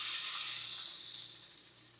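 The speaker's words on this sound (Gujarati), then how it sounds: "રાઈન તરલો વઘાર કરી દીધો અને હવે આમાં એડ કરી દઈએ." Mustard and sesame seeds sizzle in hot oil as a tempering for handvo, a steady bright crackle that fades gradually over about two seconds, close and alone.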